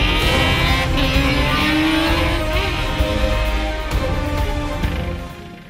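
A Formula Student race car engine roars steadily at high revs, loud and close, with rising tones as it accelerates down a 75-metre straight, then fades slightly toward the end.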